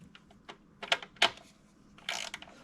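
A hand ratchet tool seats spark plugs in a 2017-2024 Chrysler Pacifica engine, giving several quiet, sparse clicks and ticks up close, with a short rasping burst near the end.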